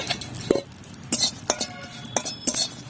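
A utensil scrapes and clinks against a metal wok in irregular strokes as dried chillies and bay leaves are stirred, several sharp knocks over a low sizzling background.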